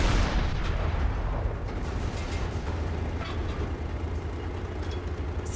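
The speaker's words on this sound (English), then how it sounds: "And we get some more artillery coming in." Incoming artillery in the Panzer Knights World War II tank game, Operation Winter Storm, makes a dense, continuous roar of blasts and low rumbling that stays loud throughout, with a heavy impact at the start.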